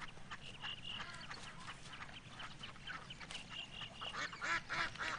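A noisy flock of snow geese calling, with overlapping honks and cackles at moderate distance, busy and continuous.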